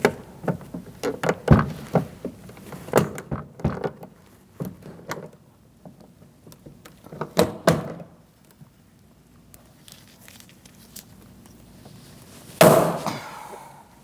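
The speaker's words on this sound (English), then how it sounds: "We're going to start our rivet up here first." Rivets being set into a 2008-2014 Mercedes-Benz C300 front door window regulator, giving a run of sharp metallic clacks and snaps in irregular bursts, close and fairly loud, with quiet gaps and a final harsh crunch near the end.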